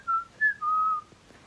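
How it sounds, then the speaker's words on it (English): A person whistles a short tune alone: two brief notes followed by a longer held note, clear and close, then a quiet pause. "I can whistle without ticking"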